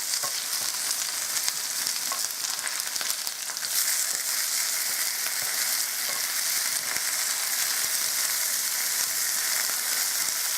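Food sizzles steadily in a frying pan after being turned over, a bright, continuous crackle that stays close and even throughout, with no voices.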